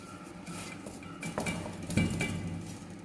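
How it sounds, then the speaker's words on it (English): Egg is mixed into choux pastry dough in a bowl, with soft, close, irregular clinks and scrapes of a utensil against the bowl and no talk. "add little bit of egg, and then we will mix it."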